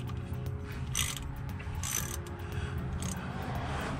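A ratchet wrench works on a transmission pan nut of a 2013 Chevrolet Malibu, giving close, rhythmic clicking strokes about once a second over a steady background hum.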